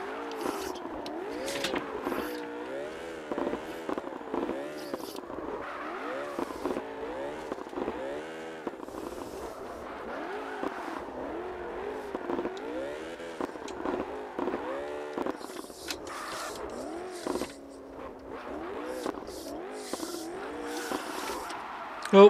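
A Ford Mustang set up as a drift car in the CarX racing game, its engine revving and wavering continuously through long slides, with brief tire-squeal bursts and a steady loud drone throughout.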